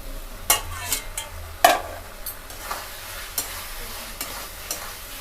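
Masala being stirred and fried in a pan for a cabbage and prawn dish, a low sizzle under repeated sharp scraping strokes of a spatula at irregular intervals, close up, no voices.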